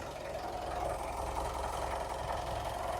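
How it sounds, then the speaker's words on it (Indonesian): A low-mileage, fully original Mitsubishi Pajero diesel engine idling smoothly, heard up close as an even, steady hum with a soft, regular mechanical chatter and no break for the whole stretch. "Suara mesinnya halus. Ini mikrofon saya dekatin ya."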